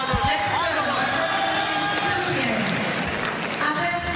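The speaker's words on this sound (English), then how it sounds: "I love the oohs and ahs of the crowd." A crowd in an arena at an artistic gymnastics world championships event final, a sustained dense murmur with rising oohs, whoops and scattered applause, while a commentator talks over it.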